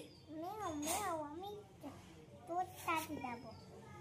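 A child imitates a cat's meow with a few drawn-out, wavering vocal cries, soft and close, followed by shorter mewing sounds.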